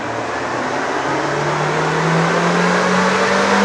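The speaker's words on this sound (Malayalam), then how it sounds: "ഒരു ഡൈനോ റൺ ഒന്ന് ചെയ്ത് നോക്കാം" Suzuki Jimny engine droning and climbing steadily in pitch during a dyno run, loud and close with a sustained rising tone and no voices.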